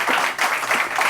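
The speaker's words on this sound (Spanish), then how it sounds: "quiero invitar a ustedes a recibir a Carlos Sánchez Berzaín con un aplauso" A live audience at a book presentation applauds to welcome the author, a dense, even wash of many hands clapping that carries steadily through the moment.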